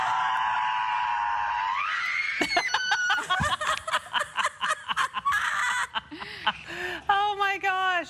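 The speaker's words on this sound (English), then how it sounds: "Well, she got the scream in that she was looking for." A woman screams in a forest, a long sustained high cry that breaks into choppy shrieks and then gives way to laughter and giggling.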